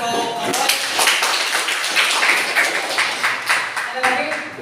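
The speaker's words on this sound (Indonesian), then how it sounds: "Tepuk tangan untuk Alfred." A classroom of students claps together, producing a steady patter of hand claps mixed with voices and cheering that stays loud throughout.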